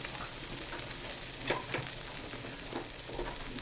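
Cumin paste frying in a hot pan, a soft steady sizzle with a few brief scraping stirs, close and alone without talk.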